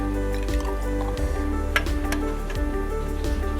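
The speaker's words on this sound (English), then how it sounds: "we're going to pour a little bit of vinegar into another test tube" White vinegar is poured into a test tube, giving a brief liquid trickle with small drips and faint glassy ticks over a low background hum.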